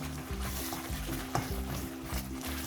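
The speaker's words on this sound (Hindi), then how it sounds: "इनको भी अच्छी तरह मिक्स कर लेंगे और बस 1-2 मिनट मैं इसे मज़ीद भूनूंगी" Ground roasted coriander and cumin cooking into a chickpea masala for restaurant-style halwa puri chanay. Steady sizzling under repeated rhythmic stirring scrapes of a spoon against the pan, close by, with no talk.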